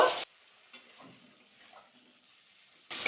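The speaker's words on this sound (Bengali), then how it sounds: "আলু দিয়ে কিন্তু একটু নাড়াচাড়া করে নিলাম" Fried potatoes are stirred into a well-cooked thick spice mix in a pan for a Bengali cabbage dish, with short sizzling bursts at the start and end and quiet scraping stirs in between.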